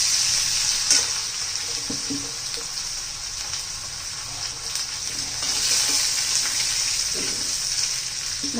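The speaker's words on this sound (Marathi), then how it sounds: "त्याच्यानंतर आलं लसूण घालायचंय" Ginger and garlic sizzle steadily in hot oil in a kadhai, with cumin and mustard seeds already in the pan, for a spicy bitter gourd dish. A continuous loud crackle runs throughout, with a few faint clinks of stirring.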